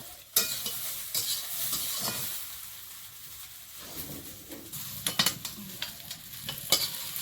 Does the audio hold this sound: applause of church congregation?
no